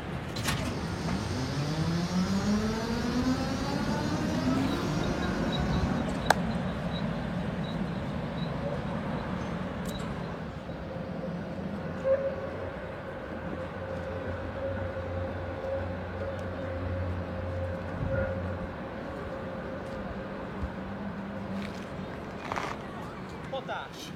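A tram turns around at the terminus loop, its motor whine rising and falling with rumbling wheels and occasional squeals and clanks, while people talk throughout.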